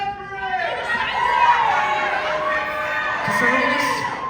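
Audience at a concert in Northern Ontario, a steady crowd murmur with voices shouting over it. One voice yells out loud, mixed into the cheering and chatter close by.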